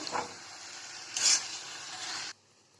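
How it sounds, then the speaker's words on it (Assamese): Spice paste being stirred as it fries for mutton masala gravy: a soft sizzle with scraping strokes and a louder scrape midway, then it suddenly drops to near quiet. "গোটেইখিনি মিহলাই ভাজি লৈছোঁ আকৌ।"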